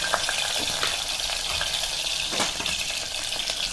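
Small onions sauté in hot oil for a Kongu-style manathakkali keerai kulambu, giving a steady, close crackling sizzle with occasional stirring scrapes throughout.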